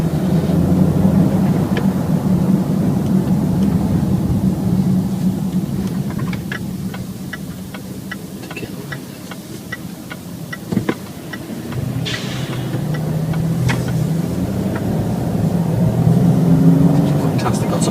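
A 2014 Range Rover Sport 3-litre SD V6 HSE driving, a steady low engine and road drone heard from the cabin, swelling slightly toward the end, with someone talking over it much of the time.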